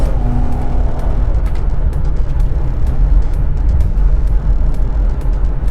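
A 2018 Dodge Caravan minivan with a 3.6 engine accelerating, a steady loud low engine drone and road rumble from inside the cabin, with faint ticks over it.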